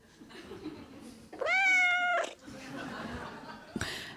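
A house cat gives one drawn-out, loud meow at close range, followed by quieter background sounds and a short second cry near the end.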